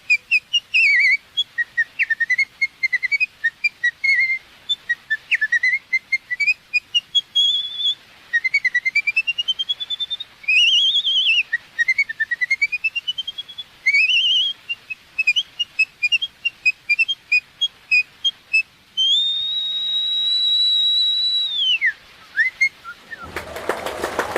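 A woman whistles a lively tune alone, bright trills and sliding notes that rise and fall, ending on a long held note before a sudden cutoff.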